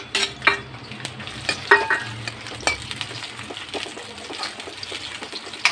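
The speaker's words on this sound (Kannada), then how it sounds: "ಎಣ್ಣೆ ಚೆನ್ನಾಗಿ ಕಾದ್ಮೇಲೆ ಆವಾಗಲೇ ಕಟ್ ಮಾಡಿ ಇಟ್ಕೊಂಡಿದ್ವಲ್ಲ ಈರುಳ್ಳಿನ ಹಾಕೋಣ." Chopped onions frying in hot oil in an iron kadai, a steady crackling sizzle broken by sharp clinks and scrapes of stirring, close and moderately loud with no voices.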